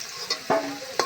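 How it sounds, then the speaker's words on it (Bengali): Potato pieces fry in hot oil in a rustic village-style kitchen, giving a steady close sizzle with a few sharp crackles and stirring clicks. "আমার এখানে আলু কিন্তু ভালো করে ভাজা হয়ে গেছে।"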